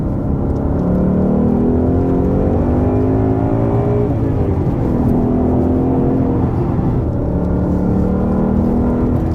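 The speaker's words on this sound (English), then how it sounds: "third gear does the same, and it just keeps winding right out" A 2023 Ford Mustang GT California Special with a manual gearbox revs through the gears, its engine note climbing and winding out in repeated rising sweeps. It sounds loud and close from inside the car, with no talking.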